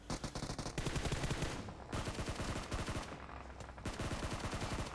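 Gunfire in a video game battle royale league match, rapid bursts of automatic shots in quick succession, broken by two short pauses, loud and close.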